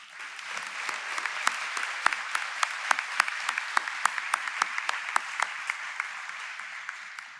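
An audience applauds at a Ferris State University fall commencement ceremony. Steady, moderately loud clapping runs throughout, with individual sharp claps standing out at a fairly regular pace across the crowd.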